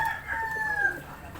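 A rooster crows once in a long drawn-out call, close and clear, over soft background rustle; the birds are kept in San Isidro, Nueva Ecija.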